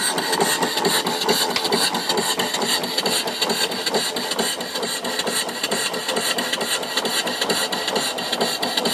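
A mill steam engine with a flyball governor, 3-inch bore and 3.5-inch stroke and a 15-inch flywheel, runs on steam from a 20-inch boiler, giving a loud, fast, steady chuffing and mechanical clatter throughout.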